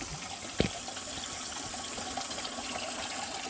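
Water runs down a backyard sluice in a steady low rush, with one brief knock near the start.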